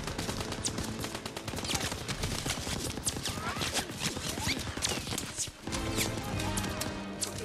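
Rapid bursts of machine gun fire rattle through a World War II beach battle in Call of Duty: WWII, with dense repeated cracks, distant shelling booms and brief voices mixed beneath the chaotic gunfire.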